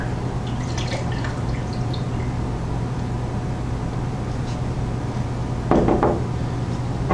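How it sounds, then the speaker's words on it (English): Water drips and a short trickle near the end as a bomb is lifted out of a calorimeter's water, sparse and close, against a constant low background hum. "take the bomb out of the water."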